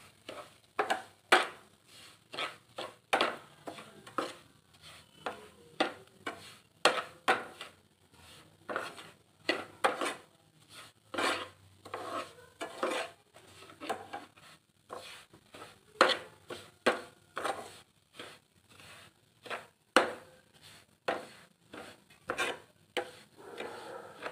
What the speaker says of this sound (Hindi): सबसे पहले मैं सूजी भून रही हूँ।